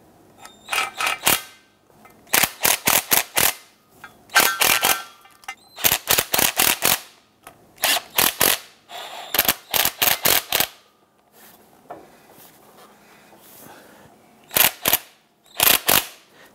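Bolts on a fuel pump and transfer unit of a 2011-2019 Ford Explorer 3.5L are snugged down one after another, giving close, loud bursts of rapid clicking ratchet strokes separated by short pauses.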